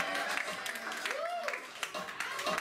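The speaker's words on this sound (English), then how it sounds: "please keep that applause going for" An audience at a New York Comic Con 2017 panel keeps up steady applause, with scattered claps continuing under a host speaking over the crowd.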